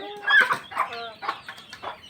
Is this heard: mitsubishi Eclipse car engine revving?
no